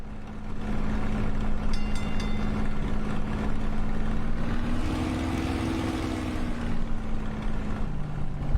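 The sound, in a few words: Spitfire engine running in Microsoft Flight Simulator video game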